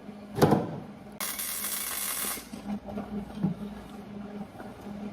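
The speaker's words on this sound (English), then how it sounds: "Let's weld it." A welding machine at work on a 1935 Ford rat rod camper build: a bright, loud crackling hiss runs for about a second, framed by clicks and clunks of handling before and after.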